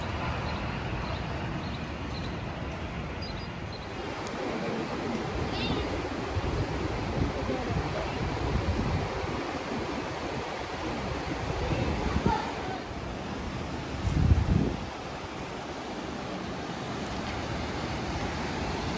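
The flooded Danube in Regensburg rushing fast, a continuous broad roar of moving water with wind noise, and a person talking over it at times.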